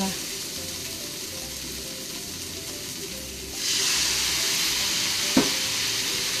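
Pork, egg and cabbage stir-fry in a frying pan, a low sizzle that suddenly jumps to a loud steady hiss once sake is poured in, with a brief clack of utensils near the end.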